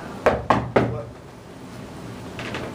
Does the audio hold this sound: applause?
no